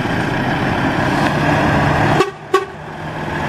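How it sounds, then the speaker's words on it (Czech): Loud horn blasts from a Volvo FH 500 truck sound twice in quick succession, close by, over a steady background rumble of traffic noise. "Tak tohle už má hlasitý klakson teda."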